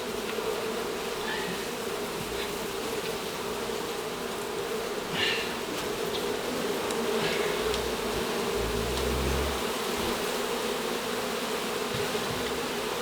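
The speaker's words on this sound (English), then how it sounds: "the bees just got very, very loud when I pulled this out" Honey bees from a colony being cut out of a house wall swarm in a loud, dense, continuous buzz that swells slightly as comb is pulled free, with a few scraping handling noises and no talk.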